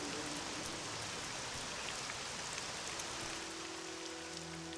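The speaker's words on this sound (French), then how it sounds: "on va un peu baisser la pluie parce que la pluie est quand même vachement forte" Heavy rain pours steadily in the Morrowind video game on Vvardenfell, a dense, unbroken hiss of drops that stays loud and even throughout with no voices.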